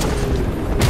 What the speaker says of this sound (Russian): Эта граната уже пожестче.